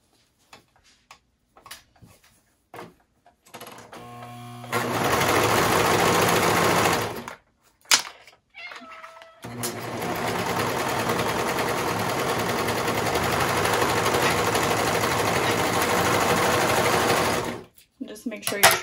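A sewing machine stitches along the top edge of a slouchy knit beanie hat, a short burst followed by a long steady run of fast, even stitching, close and loud, with light handling sounds before and between.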